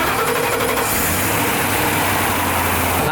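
A vehicle engine fitted with a new alternator runs loud and close, a steady low rumble that picks up slightly partway through, with no talking.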